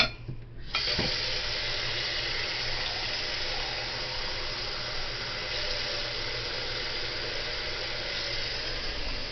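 Water pours in a steady, continuous rush into a pot of canned chicken noodle soup, starting with a brief splash and then running evenly and fairly loud without any talk.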